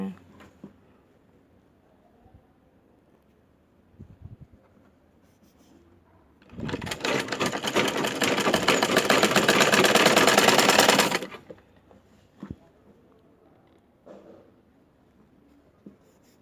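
A sewing machine stitches baby pants in one continuous loud burst of about five seconds. Quiet handling taps and rustles come before and after the run.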